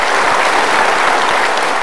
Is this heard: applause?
yes